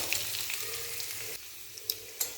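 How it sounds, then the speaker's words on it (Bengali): Sliced beetroot frying in hot sunflower oil, a close, soft, steady sizzle with a couple of faint pops near the end and no talking. "তেলটা গরম হয়ে এলে এই কেটে রাখা বিটগুলো এর মধ্যে দিয়ে দেবেন।"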